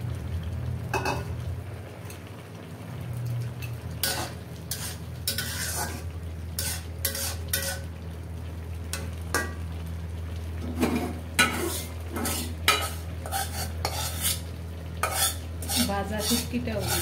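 A fish-head and dried-fish curry with aubergine is stirred in a pot, a low steady simmer underneath and repeated close scraping strokes of a utensil against the metal, growing more frequent toward the end, with no talking.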